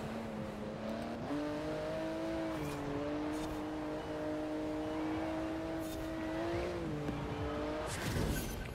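A car driving on winter roads in Forza Horizon 4, its engine holding a steady tone that steps up and down through gear changes, with tire noise and a louder surge near the end.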